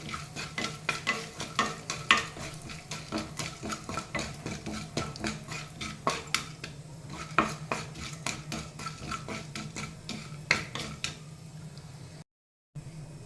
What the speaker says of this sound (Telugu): తిరగమాత వేగిందండి.